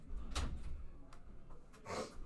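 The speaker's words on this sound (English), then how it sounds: "I close the door." A door is pushed shut with a couple of soft, muffled knocks and thuds in a quiet room.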